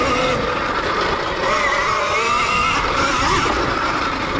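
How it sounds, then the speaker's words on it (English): A KTM Freeride E-XC electric dirt bike accelerates hard enough to lift its front wheel. A thin, shifting electric motor whine rises and falls beneath steady, loud wind rush, with no voices. "I can just turn the throttle and pop the front end up and get over stuff."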